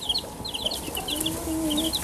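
Hens and days-old chicks cluck and cheep close by, with repeated short high peeps over soft low clucking and no talking.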